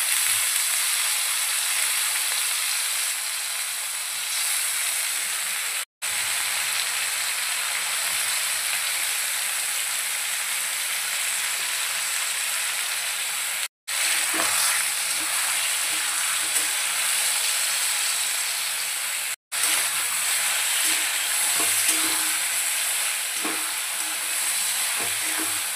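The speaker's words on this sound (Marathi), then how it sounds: "आता यामध्ये आपण मटण ॲड करूया।" Pieces of mutton sizzle loudly in a hot pan, a dense, steady crackling hiss that continues almost without pause, broken only by a few abrupt split-second gaps.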